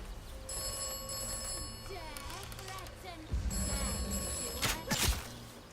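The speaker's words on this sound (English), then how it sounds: "Now I can answer this phone." An old telephone rings in the Atomfall video game, repeated bright metallic bell bursts over ambient game sound, with a voice talking partway through and a few thumps near the end.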